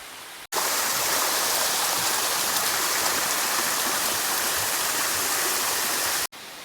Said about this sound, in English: So here's the other waterfall I talked about